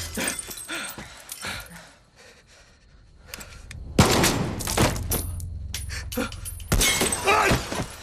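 A single loud gunshot rings out in the video game Far Cry 6, with a heavy crack and rumbling tail over scattered game noises and clatter.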